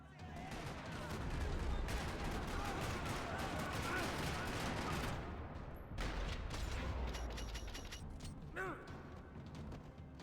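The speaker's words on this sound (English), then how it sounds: "Another parking lot rattling with gunfire." Rapid bursts of gunfire crackle in a parking lot in the video game Max Payne 3 over a rumbling, busy background, loud and sustained, with a brief tonal chirp near the end.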